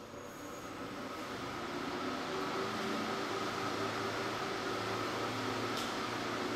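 A NUBWAY 1200W Soprano 808nm diode laser hair removal machine hums and whirs steadily after key start, its cooling fan giving a constant close drone with no talking.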